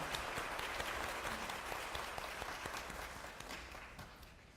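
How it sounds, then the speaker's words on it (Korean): A lecture audience in Ulsan applauds to welcome the vice mayor to the podium: a dense, steady wash of clapping, fairly faint and slowly tapering off. "박수로 단상에 모시겠습니다."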